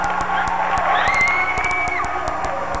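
A crowd cheers and shouts at a basketball game, a steady roar of voices with rhythmic clapping running through it from start to finish.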